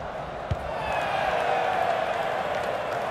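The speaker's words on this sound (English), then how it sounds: "The crowd certainly think so. Just listen to them." A stadium crowd in the FIFA 22 football video game roars in a sustained, swelling wall of cheering, with a single sharp thud near the start, loud and continuous.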